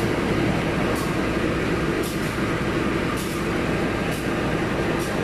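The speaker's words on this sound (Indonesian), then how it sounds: "Karena di sini berisik suara lokomotif dan berisik hujan ya guys." Constant diesel rumble from a parked CC203 locomotive during refuelling, mixed with heavy rain pattering on a zinc roof, a dense, unbroken hiss with faint periodic clicks and no voices.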